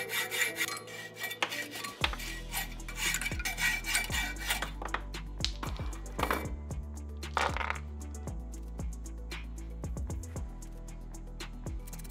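Cast metal pieces, made from Styrofoam originals, being filed and sanded smooth by hand: close, continuous rasping and rubbing strokes in an uneven rhythm, with occasional clinks and knocks of metal against the work surface.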